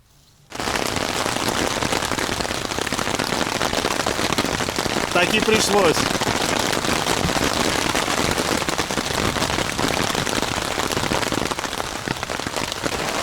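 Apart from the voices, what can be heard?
heavy rain downpour on tent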